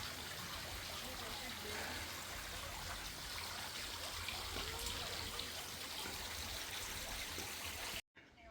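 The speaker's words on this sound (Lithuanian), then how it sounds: "vandenėlis teka" A small stream of mineral water flows steadily at a spa resort in Birštonas, a continuous trickling wash that stays even and close throughout before cutting off abruptly near the end.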